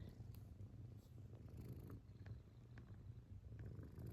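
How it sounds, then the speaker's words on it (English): A cat purring close up, a steady low rumbling rhythm that runs continuously with no other sounds over it. "Can you hear her purring?"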